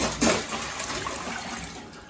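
Icy water is poured out of a bucket with a brief splashing gush at the start, then a steady trickling spill that fades slightly, no talk.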